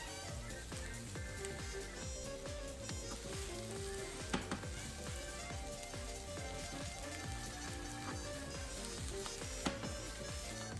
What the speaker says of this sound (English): And then add the rice and fry on high heat